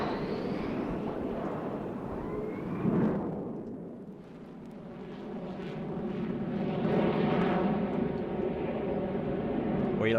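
An Israeli F-15 fighter jet roars past at the Waddington airshow. A loud, rumbling jet blast fades briefly, then swells again into a sustained distant roar.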